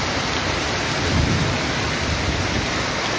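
Heavy rain pours in a dense steady roar during an early-morning thunderstorm in Nepal, with a low rumble of thunder swelling briefly in the middle.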